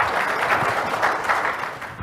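Audience applause at the CCA Awards Gala 2023 armchair conversation, a short, dense burst of steady clapping from a crowd, fairly close and continuous.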